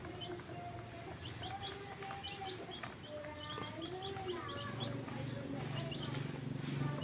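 Native Parawakan chickens with their 15-day-old chicks chirp and cluck steadily nearby, with high peeping calls repeated over a constant outdoor background.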